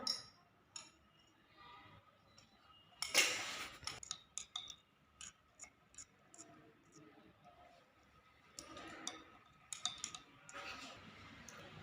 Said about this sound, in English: Stir with glass rod.